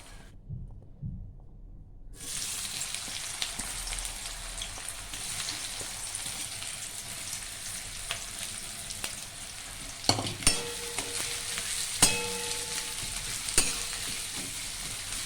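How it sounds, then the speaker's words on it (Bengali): Onion frying in hot ghee and oil in a pan, a steady broadband sizzle running continuously, close and fairly loud, with a few sharper clinks of stirring near the end. "ঘিয়ের সাথে যখন পেঁয়াজ ভাজবে"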